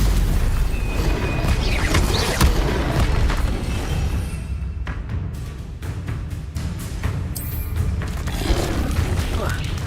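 A Stupefy spell fires in Hogwarts Legacy amid dense, continuous game combat, with heavy booms and crashing impacts rolling throughout and a sharp burst partway through, loud and close with voices mixed into the din.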